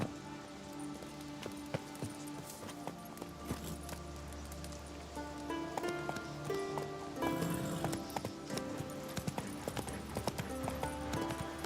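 Geralt's horse Roach galloping in the video game The Witcher 3, rapid continuous hoofbeats under game music and ambient rain-like patter, steady and moderately close throughout.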